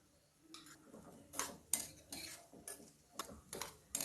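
Grated coconut roasting in a little ghee in a pan for wheat payasam, with a string of light spoon scrapes and clinks against the metal over a faint background.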